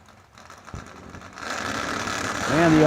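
Drag racing cars, a 1967 Nova wagon against a 1971 Vega wagon, rumble faintly at first and then swell into a loud, rising engine roar as they launch, with an announcer talking over them.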